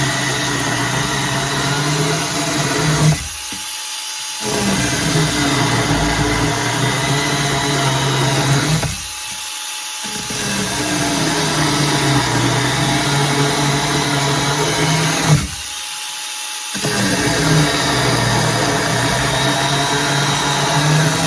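A Parkside PGHSA 12 A1 12V cordless mini chainsaw running on a 4Ah battery, whirring loudly and steadily through cuts with three brief drops in pitch under load over about twenty seconds.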